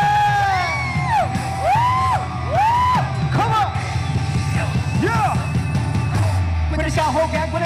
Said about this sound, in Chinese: 要听到你们的尖叫声